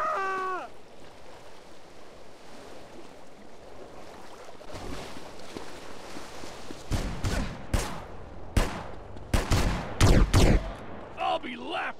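Gunfire from a gang war between Italian Mafia and bikers in Bayside in GTA San Andreas on PC: a low rumble gives way to a cluster of loud, sharp shots around the middle and end, with shouting voices nearby.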